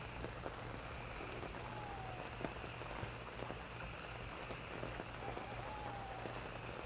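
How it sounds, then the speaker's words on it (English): Crickets chirp steadily from an ambient sound mixer, a fast regular pulsing trill over a soft, constant background hum, fairly quiet and with no talking. "Maybe the cricket's too loud, you can lower the crickets more."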